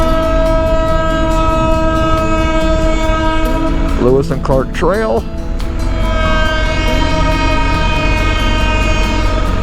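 A train in Missouri rumbles past close by with its horn sounding in a few bursts midway, while a person speaks briefly over the steady rolling noise.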